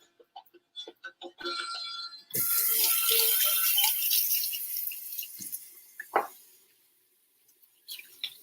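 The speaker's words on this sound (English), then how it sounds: "let me rinse off my hands on my cutting board" Tap water runs steadily for a few seconds as hands are rinsed at a kitchen sink during brunch cooking, preceded by light clattering and ending with a few soft knocks, with no talking.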